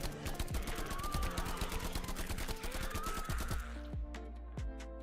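Rapid automatic gunfire in an open-world shooter video game, a fast, even burst of shots that stops abruptly, followed by a few separate single shots.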